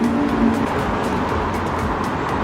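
A car speeds past on a road in Khlong Toei, making a loud, steady roar that fills the whole stretch with no talking.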